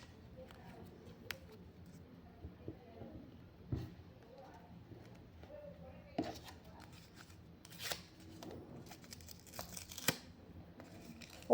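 Plastic blind box packaging being peeled and torn open by hand, a run of soft crinkling, ripping and rustling bursts that grows busier toward the end, with no talking.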